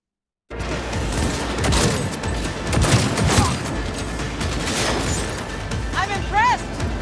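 Rapid, dense gunfire from a Cyberpunk 2077 firefight, loud and continuous with booms and bursts layered together, while voices shout over the shooting.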